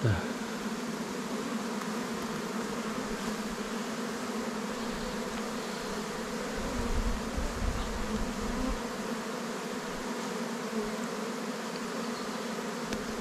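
A swarm of honeybees hums around a small nucleus hive, a dense continuous buzz close by at an even level, with a faint background murmur beneath it.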